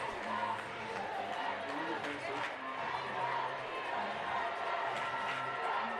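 A high school girls basketball crowd from East Burke fills a regional playoff gym with a broad wash of chatter and cheering, a commentator talking over it throughout.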